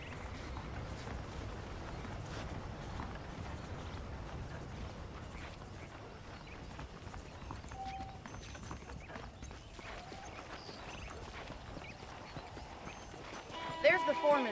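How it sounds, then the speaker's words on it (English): Horse hooves clip-clopping in the Red Dead Redemption video game, a soft steady walking gait heard faintly over ambient outdoor sound, with a brief louder burst near the end. "The horses are saddled up over here."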